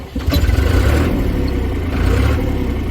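Tractor engine starting after a fuel filter replacement, cranking briefly and then catching into a steady, close, low rumbling idle.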